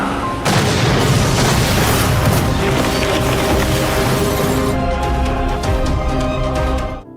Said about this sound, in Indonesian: Namun lagi-lagi mobil meledak